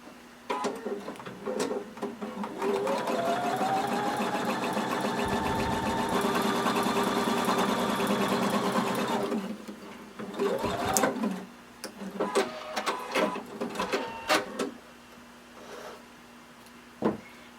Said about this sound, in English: with right sides facing, we're going to stitch using a 1/4 inch seam allowance.